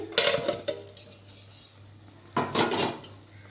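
A metal lid lifted off a cooking pot of bottle gourd with bori on a gas stove: sharp clanks and scrapes at the start, quiet in between, then a cluster of louder metallic rattles, close and clear.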